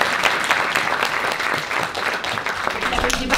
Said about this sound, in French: Applaudissements déjà